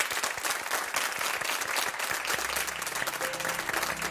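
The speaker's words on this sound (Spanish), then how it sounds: "Y un aplauso desde España." Audience applause on a Spanish broadcast show, a steady dense patter of many hands clapping throughout, moderately loud with a faint tone entering near the end.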